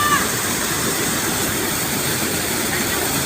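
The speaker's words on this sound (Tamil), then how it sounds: "பாருங்க மேல இருந்து வருது தண்ணி." Water crashes down continuously at the Vattakadu waterfall, a loud, broad, unbroken roar heard close up, with a brief faint bird-like chirp at the start.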